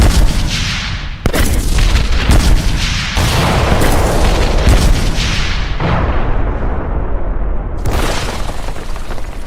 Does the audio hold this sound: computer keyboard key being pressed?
no